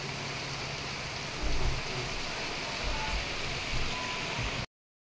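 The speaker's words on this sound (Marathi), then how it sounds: "पाऊस तर आता गरजेचंच आहे म्हणा." Rain keeps falling in Khed, Konkan, as a continuous wet hiss with occasional low swells, then the sound cuts off abruptly just before the end.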